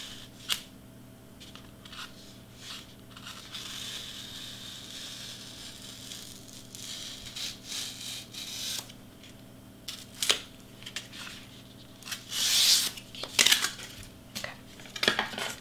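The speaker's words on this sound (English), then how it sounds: "let me cut this bottom part right here" A blade cutting through a paper or board party prop, with scattered scraping, snipping and rustling handling sounds that grow busier and louder toward the end, over faint steady room hum and no talk.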